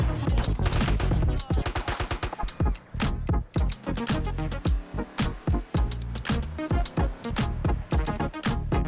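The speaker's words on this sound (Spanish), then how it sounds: "tenemos nuevas explosiones como se puede apreciar" Rapid bursts of loud, sharp explosions and gunfire-like cracks in modded GTA San Andreas, in quick succession, some clustered, others spaced, filling the whole stretch.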